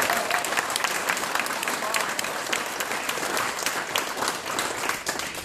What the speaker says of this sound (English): So let's give this marae a round of applause.